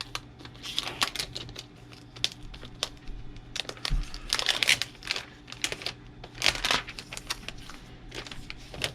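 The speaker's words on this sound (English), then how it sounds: "So we get the plastic wrap off." Plastic wrap peeled and crinkled off a 2021 Asus Zephyrus G15 gaming laptop, close up: irregular crackling and rustling bursts with brief sharp crinkles, a steady low hum underneath, no talking.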